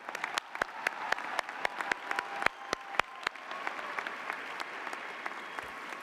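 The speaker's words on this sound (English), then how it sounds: "join me in giving them a huge round of applause for the work they did" Scattered applause from a commencement ceremony audience, with individual sharp claps standing out clearly at first before settling into a thinner, steadier patter over several seconds.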